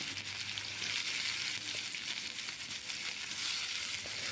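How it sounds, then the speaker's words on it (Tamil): Onions sautéing in hot oil for a squid thokku, a steady close sizzle and crackle running throughout with faint stirring scrapes and no talk. "ஆனியன் சேர்த்து நல்லா ப்ரௌனிஷ் கலராக ஆகிற வரைக்கும் நம்ம நல்லா வதக்கணும்"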